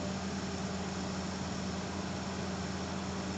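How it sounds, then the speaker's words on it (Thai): A Hitachi 200-5G excavator's diesel engine idles with a low, constant drone and a faint hum, holding an even level throughout with no voices. "เสียงเครื่องนี่เสียงสไตล์ของฮิตาชิเลยนะ"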